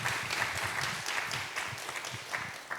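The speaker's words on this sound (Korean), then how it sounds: "우리 하나님께 영광의 박수 함께 하겠습니다." Church congregation at a young adults' Sunday worship service clapping together, a dense, steady burst of applause filling the room for a few seconds.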